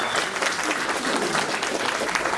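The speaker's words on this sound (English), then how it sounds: "So thank you everybody for your applause and for allowing us to be here." Brief, dense clapping from a room of people at a breakfast meeting honoring veterans, steady and moderately loud throughout.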